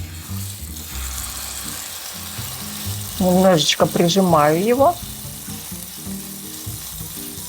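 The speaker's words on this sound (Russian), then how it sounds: "наше мясо на сковороду." A salted steak is laid into a pan of smoking-hot oil and fries with a steady, close, crackling sizzle throughout, while a voice speaks briefly over it.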